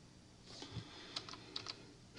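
Light typing on a computer keyboard, a handful of soft scattered keystrokes fairly close but quiet, with no talking.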